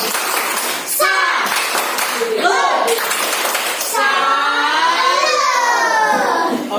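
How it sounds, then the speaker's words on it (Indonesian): A primary school class does a rhythmic salute clap in a classroom, many children's voices chanting together with scattered claps, loud and close, for the whole stretch. "Tepuk salut."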